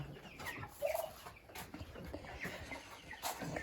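Broiler chickens cluck in a coop, close by with several short, uneven clucks and soft chatter running throughout.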